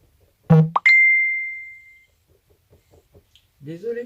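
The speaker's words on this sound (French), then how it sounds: "Désolée pour la sonnerie." Under a voice, a phone's ringtone sounds as a short plop followed by a single sustained electronic beep that fades over about a second, then quiet talk resumes.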